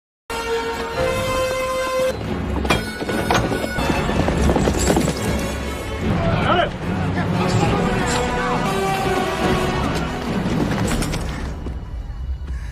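Cavalry horses gallop with steady clip-clopping hooves, heard beneath loud dramatic music with occasional whinnies, sustained throughout at close range.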